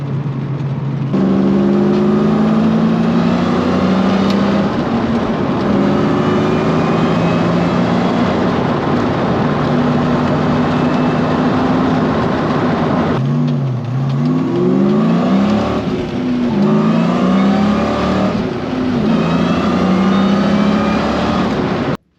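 A Saleen Foxbody Mustang running Megasquirt engine management drives along, its V8 engine droning loud and close with rising and falling revs and a brief lift around the middle, steady road and wind rush underneath.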